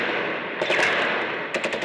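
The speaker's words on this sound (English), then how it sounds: "Gunshots can be clearly heard." Gunfire during street clashes between pro- and anti-Mubarak crowds near Liberation Square in Cairo, a few sharp cracking bursts heard at a distance over a constant roar of crowd noise.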